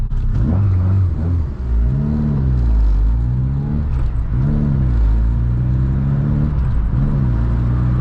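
A VW MK2 with a 16V engine fed by CBR900RR carburettors on individual throttle bodies, revving under light throttle: a loud, steady engine drone that rises and falls in repeated swells, close and continuous with no talk.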